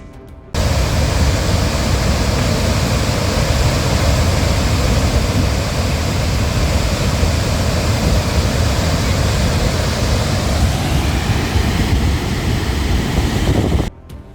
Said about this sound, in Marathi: सापुताऱ्यातील या गीर धबधब्याची ही विहंगम दृश्य खास नाशिक न्यूजच्या प्रेक्षकांसाठी